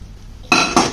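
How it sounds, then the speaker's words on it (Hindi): Metal pots, pressure cookers and kitchen utensils clatter in a home kitchen, with two sharp bursts of clanking about a quarter second apart after a quiet start. "और ये देखो इतने सारे बर्तन, कुकर, यहाँ तीन कुकर है"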